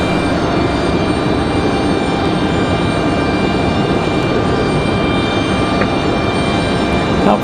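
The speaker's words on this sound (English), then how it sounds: "Looks like our next arrival is going to be a United 1322 coming in from Washington Dulles. This one an A319-100." A United Airbus A319-100 jet arriving from Washington Dulles at Raleigh-Durham: loud, steady engine roar with a high whine, continuous and close with no break.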